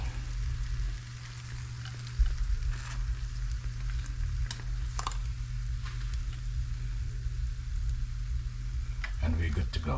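Whiting fillets deep-frying in oil on a stove, giving a continuous bubbling sizzle with sharp crackles scattered over a low steady hum, rising into louder bubbling near the end.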